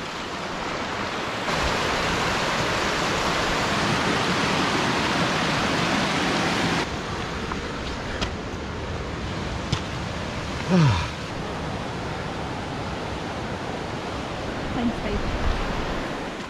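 Water from a mountain waterfall rushes steadily beside a Scottish hiking path, a constant broad roar that swells for several seconds and then settles, with brief faint bumps and noises over it.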